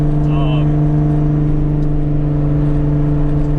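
A deep, steady Nissan 300ZX engine idles through a 3-inch exhaust with a low bass rumble, constant throughout, heard close up.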